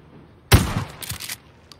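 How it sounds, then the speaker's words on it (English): A single loud shotgun blast in a video game, a sharp close boom followed by a short noisy tail and a few quieter rattling echoes. "I'm gonna shoot my shotgun."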